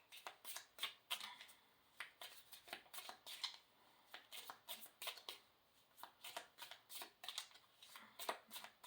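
Cards are shuffled over and over, quick papery riffles and snaps in a steady rhythm, close and quiet with no talking.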